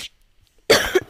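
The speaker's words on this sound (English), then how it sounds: "Sorry, I have a bit of a cough." A single sharp, close cough bursts out after near silence, loud and brief with no talking around it.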